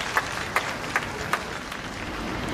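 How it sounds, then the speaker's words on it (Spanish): Faint applause from half marathon spectators, a steady wash of clapping with a few sharper claps standing out at a regular beat. "¡Aplaude!"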